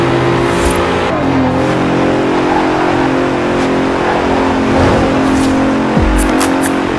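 A 2017 Bentley Continental Supersport in the racing game Forza Horizon 4, its engine droning steadily at a high, even pitch with a brief rise in revs near the end, loud and close, with no one talking.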